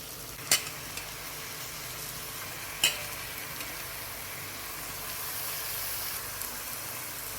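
Mutton frying in a pan with softened onions and tomato, a steady sizzling hiss throughout, broken by a couple of sharp clinks of a spoon stirring against the pan.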